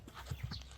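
A few soft hoof thuds come from a European and Kyrgyz crossbred horse at a livestock market, faint and brief, in quick succession.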